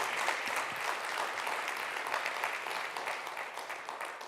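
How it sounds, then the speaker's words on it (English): A dense wash of audience applause fills a hall after startup pitches at a circular economy demo day, many hands clapping steadily at a fairly distant, soft level, tapering slightly toward the end. "applause is well deserved."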